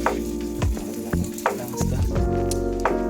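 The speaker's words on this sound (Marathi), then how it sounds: "रव्याचं मिक्सर बनवून सुरमई आता फ्राय करत आहे" Surmai fish coated in a semolina mix frying in oil on a flat tawa, a steady loud sizzle with sharp spatters and crackles bursting through it, close up and with no talking.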